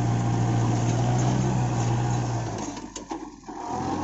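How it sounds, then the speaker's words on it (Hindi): A Kubota MU4501 tractor pulling a 450 kg plow drones with a steady low engine hum that eases and dips near the end before picking up again, with no voices. "और ये दूसरा राउंड लेके जा रहे हैं, आराम से जा रहे हैं इस बार तो, ज्यादा लीवर भी नहीं दे रहे हैं ट्रैक्टर को"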